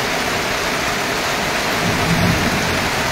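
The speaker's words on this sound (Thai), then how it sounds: "ฝนตกตอนนี้" Steady heavy rain pouring down at a forest temple, a dense continuous hiss of drops on surfaces with a low rumble of thunder underneath, and no one speaking.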